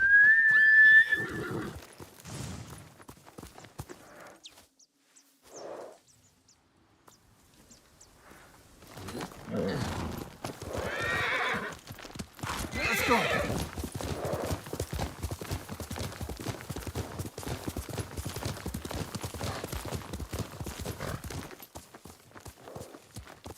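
In the video game Ghost of Tsushima, a horse whinnies once, then hooves clop in a steady rhythm, growing louder and closer, with a faint bird chirp near the start.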